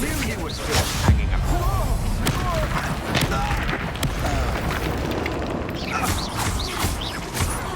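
A Confringo fire spell in Hogwarts Legacy blasting during a fight, with repeated booming thuds and crackling bursts over constant combat noise, loud and near, and voices over parts of it.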